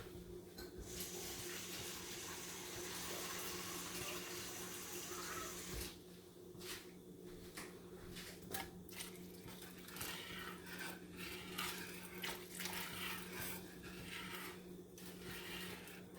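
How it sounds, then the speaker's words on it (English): Water pours steadily into a pot of simmering meatballs in sauce, a continuous splashing rush at close range that shifts in texture midway and carries on with bubbling and stirring noises. "Add some more water."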